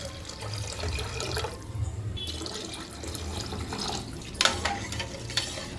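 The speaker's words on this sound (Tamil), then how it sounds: "இப்போ இதுக்கு தண்ணி சேர்த்துக்கலாம்." Water pours steadily into a pressure cooker pot while making one-pot vathakuzhambu rice, a continuous splashing stream with a few clinks of metal near the end.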